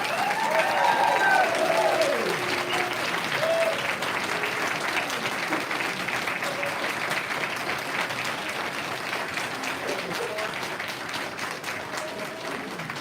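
Audience applause fills a county commissioners meeting room, a steady wash of many hands clapping that stays loud and even throughout, slowly tapering slightly toward the end with no talk over it.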